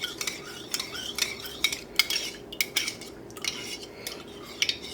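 Spoon clinking briskly against a small bowl while dashi powder is stirred into about four tablespoons of hot tap water, a quick run of bright taps and scrapes without talk.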